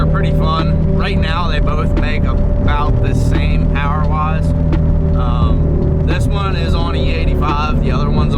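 A loud turbocharged Ford ST engine drones and surges continuously close up, its boost and exhaust roar filling the space, while people talk over it throughout.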